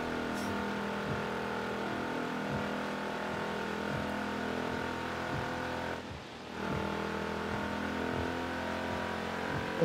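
A car engine drones at sustained high revs in Forza Horizon 3, holding a steady tone through a gear, with a brief dip midway before the roar resumes, and no talking.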